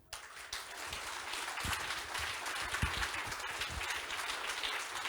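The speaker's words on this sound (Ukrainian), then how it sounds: "Ще, ще, ще, ще, друзі, аплодисменти." An audience applauds at a storytelling event, many hands clapping in a sustained, even wash of sound that swells slightly after a quiet start and carries on throughout.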